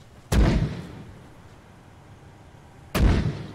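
Two booming mortar shots firing HE rounds in the video game Arma 3, each a loud heavy thump with a rumbling decay, spaced a few seconds apart with quiet in between.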